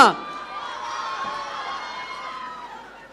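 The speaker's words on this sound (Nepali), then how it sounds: "एकचोटि फेरि ताली बजाउन" Audience at a college farewell event in Nepal applauding and cheering, a dense continuous wash of clapping and crowd noise that stays fairly loud across the whole stretch and fades slightly at the end.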